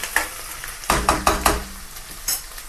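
Grated ginger and curry leaves fry in a pan, short bursts of sizzling crackle as they are stirred, several quick sharp pops and scrapes close up, with no talk.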